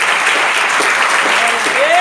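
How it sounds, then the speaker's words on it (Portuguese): A church congregation at a Saturday afternoon service claps together in a dense, loud, steady burst of applause, and a voice rises over it near the end. "Dê um aplauso ao Senhor."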